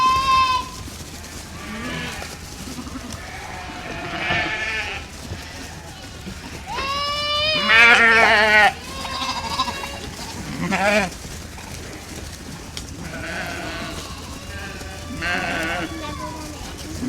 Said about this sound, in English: there's just streams of sheep coming off of all over the place